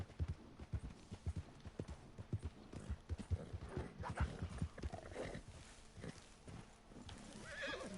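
A horse in Red Dead Online whinnies and snorts while its hooves clop in an uneven rhythm, close and fairly quiet, with several sharp hoofbeats and a neigh toward the end.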